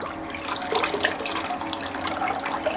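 Warm water runs into the tank of a Geekbes ultrasonic cleaner, a steady close gurgling splash with bubbling texture that continues evenly throughout, with no voices.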